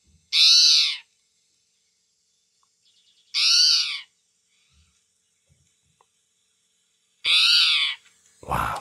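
Three separate purring, trilling spotted tui calls, spaced several seconds apart in quiet surroundings, with a faint low thump near the end.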